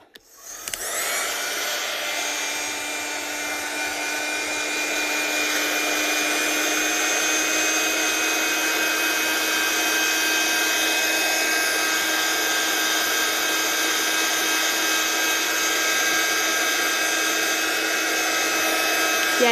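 A dryer blows over a handmade embossed card, starting with a click and then a loud, steady whirring hum that runs unbroken at close range, with no talking.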